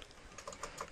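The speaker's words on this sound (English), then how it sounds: "what I'm actually going to do is just type tutorials." Quick keystrokes on a computer keyboard tap out an uneven little burst of clicks, close and fairly soft, with no talking.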